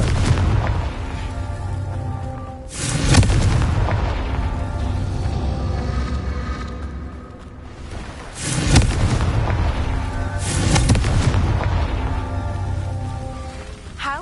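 Fire spell explosions go off in the video game Hogwarts Legacy, with two big booming blasts followed by crackling rumble over a constant background of game sound, and no speech.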